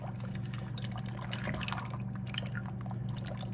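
Hot water and dry penne pasta are stirred in a crock pot, giving soft wet sloshing and dripping with faint clinks over a low steady hum. The sound stays quiet and continuous throughout.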